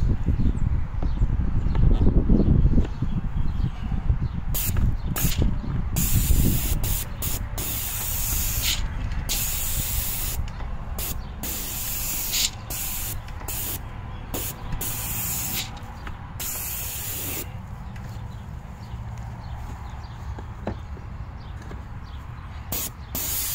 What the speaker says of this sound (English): spray it from angle to angle to get inside these little joints